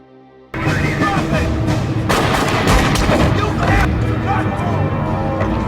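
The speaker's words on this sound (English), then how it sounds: "A fierce shootout erupts between the military and a group of armed men." A fierce shootout on a ship between soldiers and armed men erupts suddenly into loud, dense gunfire, with rapid overlapping shots and booms sustained throughout.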